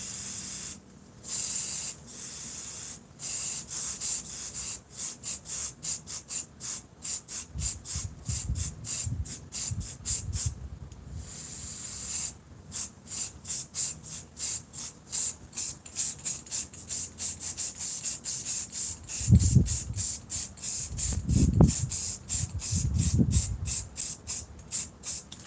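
Spray paint hisses onto a water surface for hydro dipping in a series of short, rapid bursts with brief pauses between them. Near and moderately quiet, with a few soft low thumps toward the end.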